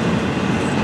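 A train rolls steadily past, a dense continuous rumble and roar of wheels on rails, loud and close throughout with no break.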